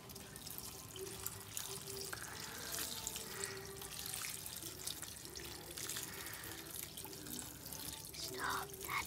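Water pours and trickles steadily into a bowl of seven dried fruits soaking for a New Year dish, a soft continuous splashing at close range.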